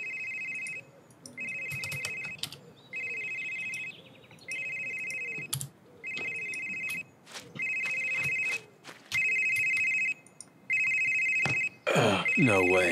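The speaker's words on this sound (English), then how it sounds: "It's the phone." A cell phone rings inside the horror game Someday You'll Return, repeating about eight evenly spaced electronic trills with brief gaps, while someone talks quietly underneath.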